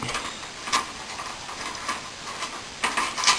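A plastic Mirage transforming toy figure is handled up close, giving a few sharp clicks and light scraping rattles as its parts are pulled, folded and flipped.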